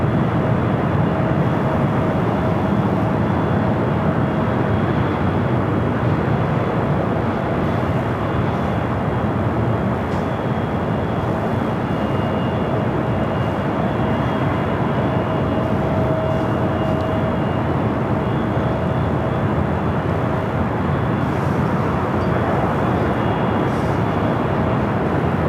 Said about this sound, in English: A380 Super now heading up